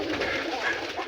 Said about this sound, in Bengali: ওই যে আমার পুরা জালালি কবুতর, এটা বাতে বসে আছে, ওর কাছে 2টা ডিম।